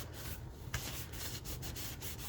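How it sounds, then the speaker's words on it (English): An old blue towel rubbing down a handmade paper folio, producing a close, continuous scuffing and brushing with repeated back-and-forth strokes and no talking. "Bring out the old blue towel here."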